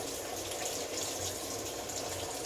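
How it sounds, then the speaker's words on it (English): Running tap water pours steadily over a mango seed being rinsed by hand, a continuous close, full gushing splash with no breaks or talk. "Rinse it good, rinse it good."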